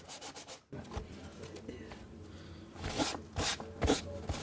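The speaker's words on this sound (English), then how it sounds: "you'll sand your whole hat, both outside and inside, till it's as smooth as you can get it." Sandpaper of 150 grit rubs over a wooden bentwood hat in repeated scratchy strokes, close and moderately loud, with the strokes growing stronger toward the end and no talking.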